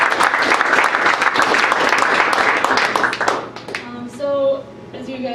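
An audience at a panel discussion breaks into dense, loud applause that runs for about three seconds before thinning into scattered claps while a voice starts speaking.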